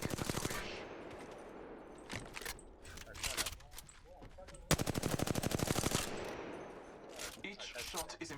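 Apex Legends gunfire rattles in rapid automatic bursts, loud and close, with several long volleys separated by brief pauses while a voice talks over the action.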